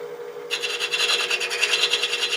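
A chamfer is cut on exotic palo santo wood, giving a close, steady rasping scrape with fast repeated strokes that starts after a half-second of quiet and continues alone.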